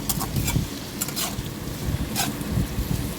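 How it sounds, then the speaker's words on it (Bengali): Prawns with turmeric frying in a pan while being stirred, a low crackling sizzle with soft scraping strokes of a spatula, close and steady without speech. "দেখো আমি একটুখানি নাড়ছি"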